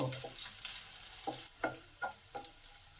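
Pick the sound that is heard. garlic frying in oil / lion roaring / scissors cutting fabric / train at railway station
garlic frying in oil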